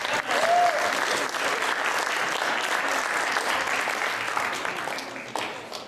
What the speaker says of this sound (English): Big round of applause for our assistant scout.